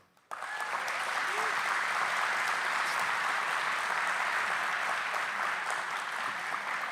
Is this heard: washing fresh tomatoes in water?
no